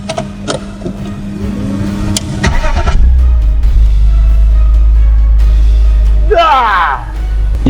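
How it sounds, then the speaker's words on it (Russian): A BMW 528, fitted with a swapped engine and automatic gearbox, cranks and fires up, then settles into a loud, steady running rumble with a rev rising and falling near the end, while people speak nearby. "И мы все-таки завели машину."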